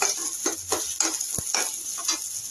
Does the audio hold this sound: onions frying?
yes